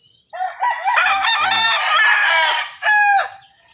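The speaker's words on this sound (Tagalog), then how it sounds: "Nagpaparami pa lang tayo ng mga manok, eh." Farm chickens cluck and a rooster crows loudly and close by, several long, strained calls running together over a few seconds with no one speaking.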